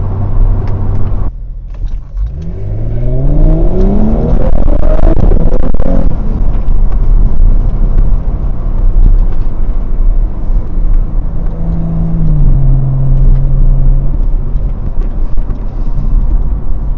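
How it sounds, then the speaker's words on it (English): Steady cabin hum of an Audi S5 driving at highway speed near 80 km/h, with low engine drone and subdued road noise. Rising engine tones sweep upward early on as the car accelerates, then a continuous rumble holds throughout. "The cabin is also well insulated. There's not a lot of road noise coming in"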